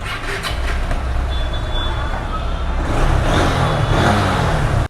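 Engine of a used 2021-model motorcycle running steadily, a loud low rumble with broadband roar that grows slightly stronger in the second half, with faint voices underneath.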